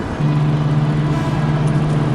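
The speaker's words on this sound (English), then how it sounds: "Your car's too loud, sir." A loud car engine drones steadily while driving, a constant low hum with a fixed tone that starts after a brief moment and holds evenly, with no speech.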